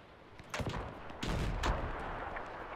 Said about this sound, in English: I think the enemy might be throwing grenades at us.